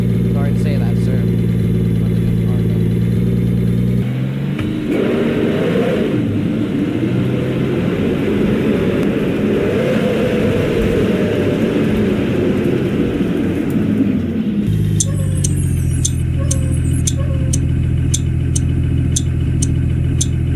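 Car engine in the Roblox video game, steady mid-pitched droning as the car drives at about 25 miles per hour, loud and continuous under someone talking, easing to an idle hum near the end.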